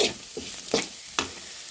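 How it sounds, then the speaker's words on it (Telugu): Beetroot with finely chopped coriander frying in a pan, heard as a low sizzle broken by three or four scraping stirs of a spatula, close up with no talk. "ఇంకా అలానే సన్నగా తరిగిన కొత్తిమీర ఉండేది కదండి అది కూడా వేసుకొని ఫ్రై చేసుకున్నాను"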